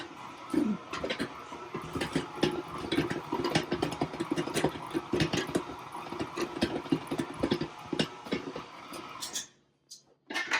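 A stand mixer with a paddle attachment churns pie dough in a steady mechanical hum, thumping and knocking irregularly as the dough comes together, then stops near the end.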